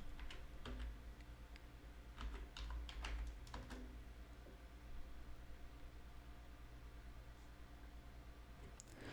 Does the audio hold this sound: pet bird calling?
no